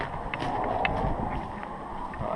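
Wind blowing outdoors beside a roadside wall on a South Australia road trip makes a steady, broad rushing roar that buffets the microphone, close and continuous with no voices.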